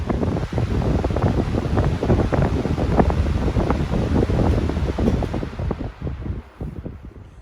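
An electric fan with ball bearings and fairly heavy blades spins down, giving a steady broadband whoosh of moving air that stays loud, then thins and fades toward the end.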